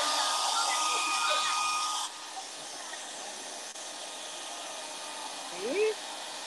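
A steady broadband whoosh of a hair dryer blowing hard on high, loud at first then settling slightly lower, with a brief faint squeak near the end.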